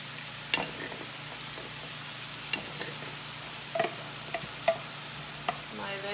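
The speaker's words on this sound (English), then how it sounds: "I've got my sausage that's going right now. Nice and even in the pan" Sausage fries in a pan on a breakfast stovetop, a faint, steady sizzle with a few scattered clicks and light taps from stirring, quiet and close, without speech.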